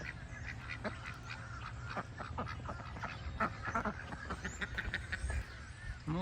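Ducks at a park pond quack repeatedly, in overlapping irregular calls that are nearby and fairly loud, running continuously under outdoor ambience.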